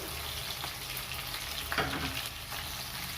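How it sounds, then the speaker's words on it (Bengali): Prawns fry in hot mustard oil, making a constant dense sizzle with a brief louder crackle and a soft stir midway, close and steady, with no one talking. "এখন তেলটা গরম হয়ে গেছে, আমি এগুলো এখন একটু ভেজে নেই।"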